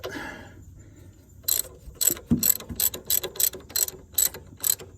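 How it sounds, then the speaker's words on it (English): Ratchet wrench clicking in quick bursts while backing out a loosened rear motor mount bolt on a Honda Element, close and crisp, with a brief metallic knock partway through and no talk. "Now that it's broke loose, I can switch to the ratchet."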